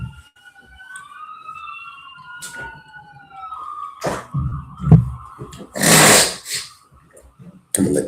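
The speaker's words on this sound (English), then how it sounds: "I'm going to let these sirens pass." Emergency vehicle sirens wail past, their rising and falling tones sweeping clearly for several seconds, followed by bursts of louder traffic noise and rumble as the vehicles go by.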